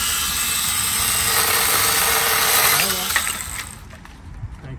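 Battery-powered mini chainsaw cutting through a thick branch, a loud steady whining motor buzz for about three seconds that drops off as the cut finishes, followed by quieter handling noises.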